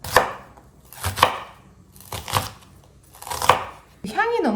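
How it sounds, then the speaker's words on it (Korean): Knife chopping an onion into small pieces on a cutting board for Korean soft tofu stew, four or five evenly spaced, crisp thuds close up, then a short squeaky rustle at the end. "양파는 그냥 적당하게 좀 작은 크기로."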